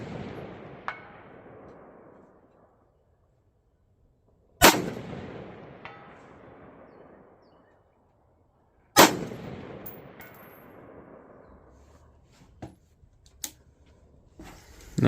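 Rifle shots from a rifle with an LPVO scope firing 77 grain ammunition at 300 yards, three sharp loud cracks spaced several seconds apart, each trailing into a long rolling echo, with fainter distant pops near the end.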